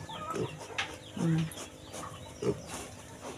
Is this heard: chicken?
yes